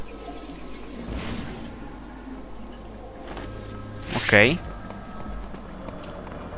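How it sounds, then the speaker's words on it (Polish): A phone rings briefly with a bright electronic trill over steady background noise in the video game Batman: Arkham City, and a voice speaks softly nearby. "Dzwoniący telefon."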